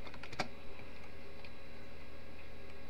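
Keys on a computer keyboard tapped in a quiet, uneven run while a file name is typed, with soft clicks over a steady low hum and no talk.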